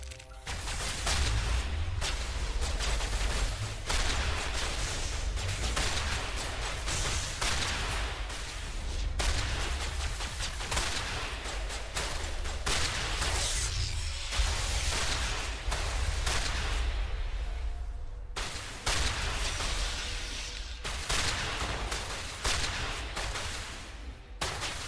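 Gunfire in the video game Mass Effect Legendary Edition, a dense, continuous barrage of shots and booms sustained throughout at loud, steady level with brief drops, no talk over it.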